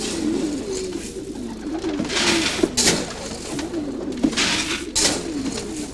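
Pigeons coo in soft, repeated rolling calls close by, with a few brief flutters and rustles mixed in.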